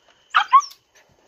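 A single short dog bark, a quick sharp yelp-like burst close by, followed by quiet.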